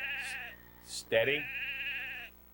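A sheep bleats during a sheepdog herding session, a couple of short calls then one long wavering bleat up close, with a voice briefly speaking.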